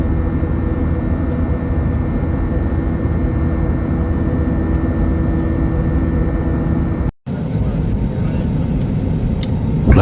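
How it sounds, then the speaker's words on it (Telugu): Steady, loud broadband engine roar with a constant low hum, like the inside of an airliner in flight, briefly cutting out for a moment near the end. "ప్రయాగ్రాజ్ ఎయిర్పోర్ట్కి ఫ్లైట్ వెళ్తుంది"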